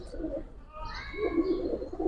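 A Giribaz pigeon coos in low, soft, rolling phrases near at hand, with a faint higher hiss and some background noise running through.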